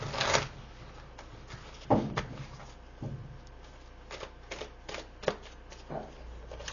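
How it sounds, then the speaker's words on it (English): Tarot cards shuffled and drawn from a deck at close range: a dense riffling burst, then sharp slaps and softer rustles as individual cards are pulled and laid down, with a quiet background and no talk. "Let's pull three more cards here."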